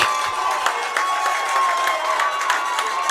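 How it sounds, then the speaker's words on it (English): A crowd roars steadily at a Wisconsin high school football game between Appleton North and Kaukauna on homecoming, a dense continuous wash of cheering with scattered shouts, heard from the stands at some distance. "And this crowd is absolutely electric."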